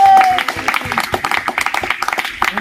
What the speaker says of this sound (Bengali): একবার সবাই জোরে হাততালি দিয়ে দেন।